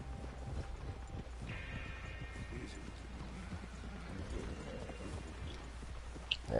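Horse hooves in Red Dead Redemption 2, soft clip-clopping steps that slow and settle under a faint wind-like background, fairly quiet, with a brief sharp knock at the very end.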